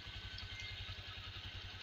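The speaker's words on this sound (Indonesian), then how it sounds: "Ini posisi motor saya hidupkan penonton." Faint, steady motorcycle engine idling with an even, rapid chugging pulse, used to power a water pump without mains electricity.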